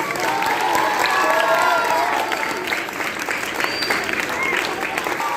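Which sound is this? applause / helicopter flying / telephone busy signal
applause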